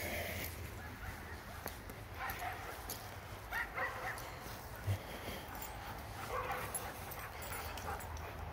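Several dogs bark and yip in short scattered bursts across an off-leash city dog park in Rapid City, mostly distant over steady outdoor background noise, with a brief whimper.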